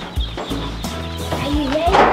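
Baby ducklings and chicks peeping inside a box as they are introduced on a homestead, loud close chirps and clucky calls overlapping with a voice talking nearby.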